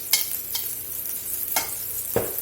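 A steak sizzles in olive oil and butter in a pan over medium heat, a constant soft frying hiss punctuated by a few sharp spatula scrapes and clinks, with no talking.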